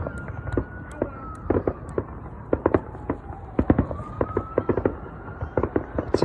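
Canada Day fireworks crackle and bang in scattered bursts at a middle distance outdoors near an airport. The pops are irregular, some in quick clusters, over a faint steady wavering tone.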